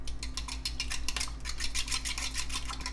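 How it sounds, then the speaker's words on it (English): Rapid, steady scraping and clinking of a fork whisking raw eggs in a bowl for scrambled eggs, close and fairly quiet, continuing without pause under a low background hum. "grab a fork and whisk this bad boy up"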